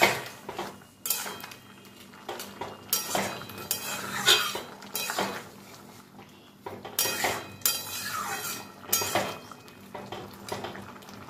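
Shrimp and potato curry stirred in a pan, a metal spoon scraping and clinking against the pan in uneven bursts, close and fairly quiet with short pauses between strokes.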